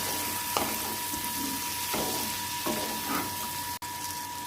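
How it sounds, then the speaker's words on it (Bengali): Beans, eggplant and turmeric fry with a fish head in a pan, a steady loud sizzle broken by a few scraping stirs. "সিম, বেগুন, হলুদ, এবার নুন দিয়ে ভালো করে নেড়ে চেড়ে"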